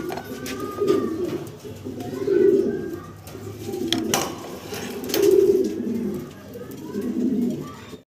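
Large blue Mundian cock pigeon cooing in deep, rolling phrases that repeat every second or two, close by, with a faint background hum.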